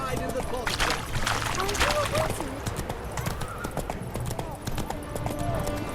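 Roach, a horse in The Witcher 3, clip-clops along in steady hoofbeats with a neigh, heard under a lively crowd and talking voices in the town of Oxenfurt.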